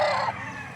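A rooster at a live-bird market, a white-footed bird, gives a loud, close crow that cuts off after a brief burst, with market noise murmuring underneath.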